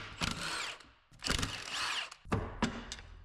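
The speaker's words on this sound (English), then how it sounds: "We'll come back in with our 15 mil and we'll get all these case bolts out." A power tool spins out 15 mm case bolts on a 1990 Suburban 700R4 transmission: three short whirring bursts up close, separated by brief pauses, with faint mechanical clicks and no talking.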